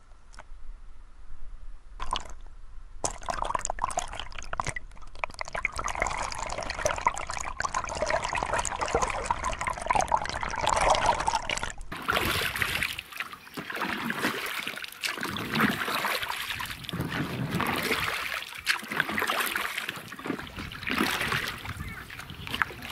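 Packraft paddled across a river to the far shore, with water trickling and dripping off the paddle and gentle splashes, steady and close, changing to a broader rushing wash partway through.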